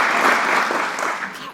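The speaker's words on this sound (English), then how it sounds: "Clap loud." A home audience claps loudly in a fast, dense burst of applause that carries through the short moment and fades slightly at the end, with a voice talking over it.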